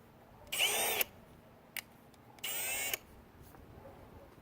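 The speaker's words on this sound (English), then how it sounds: "The drill can reach this spot." A power drill is used to install an oil catch can on a 2015-or-later Dodge Challenger SXT. It runs in two close, loud half-second whirring bursts with a tiny click between them and no talking.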